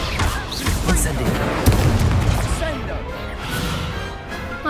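Incendio fire spells cast during a dueling tournament in Hogwarts Legacy, loud booms and crashing impacts amid busy spell effects, with in-game voices shouting over the fight.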